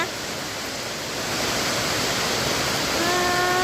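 Heavy rain pours steadily outside a house while floodwater rushes past, a loud, dense, constant hiss with no gaps, and a faint tonal hum rises near the end.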